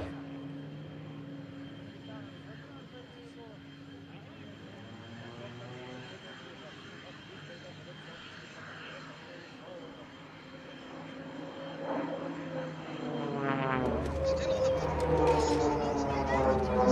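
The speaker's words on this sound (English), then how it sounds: "Those red and white aircraft here over Florennes." Red and white aircraft fly over the Florennes International Airshow, an engine drone building from a distant hum to a louder, nearer roar by the end, with speech over it.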